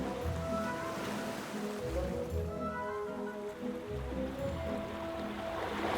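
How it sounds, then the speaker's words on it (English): Penguins splash in ocean water along a southern African coast, a continuous wash of surf and churning water with no voices. "They plunge into the water with obvious joy. Splashing around this way lets them clean their plumage"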